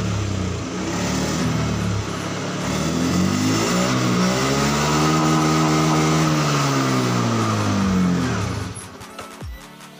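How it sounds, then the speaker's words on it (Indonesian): A Honda scooter or motorcycle with a weak fuel pump, started and revving in a workshop: a steady mid-pitched engine drone that climbs and falls through one long rev, then cuts out abruptly near the end. "Kita hidupkan kontaknya dan kemudian kita engkol sepeda motornya."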